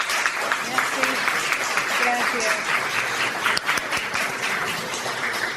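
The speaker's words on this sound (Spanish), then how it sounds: "quiero antes de pedir un aplauso para Godson Pierre y Tania María" Audience applause for the speakers at a binational communication students' congress, a steady broad patter running the whole time with a voice talking over it.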